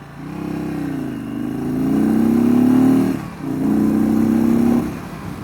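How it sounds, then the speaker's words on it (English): A 2022 Indian Chief cruiser motorcycle with stock exhaust revs up through second gear with a throaty exhaust, briefly dips at a shift, then pulls strongly again before easing off. "that's the stock exhaust, people. That sounds pretty good opened up."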